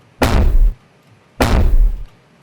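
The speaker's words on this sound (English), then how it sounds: "we have this rattle sound from the drawer" Two loud, heavily processed drawer rattle bursts, saturated and limited, each about half a second, with a punchy crunchy texture separated by a brief silence.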